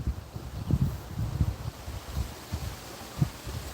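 Gusty wind buffets a microphone outdoors near a fence where young animals are kept, giving low, uneven rumbling bursts with no talking.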